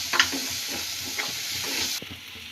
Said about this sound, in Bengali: এখন পেঁয়াজ কুচিটা ভালোভাবে একটু ভেজে নিচ্ছি।